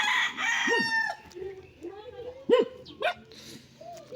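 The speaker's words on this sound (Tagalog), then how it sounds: "Galit yung mga aso." Several agitated dogs bark in sharp, loud bursts, with a rooster crowing nearby and people talking between the barks.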